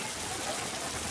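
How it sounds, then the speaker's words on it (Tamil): Steady rain falls across a town in Kanyakumari district, a soft, even hiss of drops with no breaks during the brief moment. "நாகர்கோவில், குலசேகரம், குளச்சல் உள்ளிட்ட இடங்களில் பரவலாக மழை பெய்து வருகிறது"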